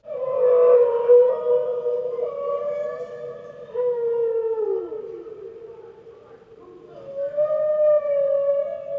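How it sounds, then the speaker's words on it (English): Whale calls play from a tape in a jail cell: long, mournful tonal moans that rise, bend and fall in slow, overlapping sweeps, with a short quieter gap partway through. "you hear the whale calls being played from his tape"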